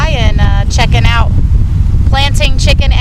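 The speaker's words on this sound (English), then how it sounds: "it's pretty windy, so I'm not even sure how the sound is going to turn out on this video" Heavy low rumbling wind buffets the microphone throughout, loud and constant, while someone talks over it in two bursts.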